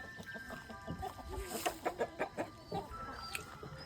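Roosters and hens cluck in a coop. A run of short, rhythmic clucks rises in the middle of the clip over a steady farmyard background at moderate distance.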